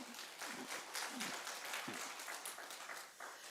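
A church congregation at a Sunday service claps hands together, a dense, fairly faint patter of many hands that swells and continues steadily with a few sharper claps standing out.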